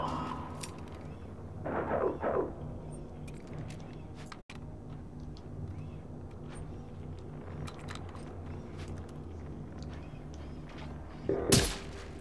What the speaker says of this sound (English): Stop fucking shooting at me.